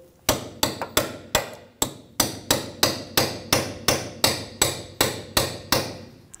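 A steel chisel driven by hammer blows to pop a ball joint loose while replacing a front control arm on a 2010–2014 Subaru Outback; about fifteen sharp metallic strikes ring out in a steady, evenly spaced rhythm, close and clear.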